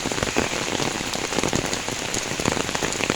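Heavy rain pours down in a dense, loud, continuous patter of close drops striking surfaces, with no voices.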